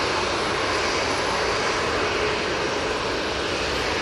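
EasyJet airliner taxiing across the runway at Manchester Airport, a continuous loud jet engine rumble and hiss, steady and close, with no voices.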